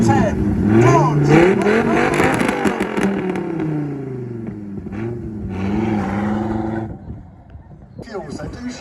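A V10 Dodge at a classic and supercar show at Sherborne Castle revs up with rising, swelling engine pitch, then settles to a lower burble, heard close with crowd chatter and a voice talking alongside.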